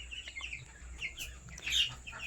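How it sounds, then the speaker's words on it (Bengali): Half-grown chickens in a bird-farm pen give a few faint, scattered clucks and chirps in a quiet setting. "আমার 15 পিস মুরগির বাচ্চা ছিল, ওটা তো দেখতে দেখতে অনেকটাই বড় হয়ে গেছে।"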